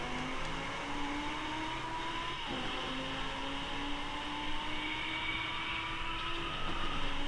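A Lamborghini Huracán LP610-4 engine in the Driveclub racing game holds a steady, loud drone, rising in pitch, dipping briefly at a gear change around the midpoint, then climbing again under continuous throttle.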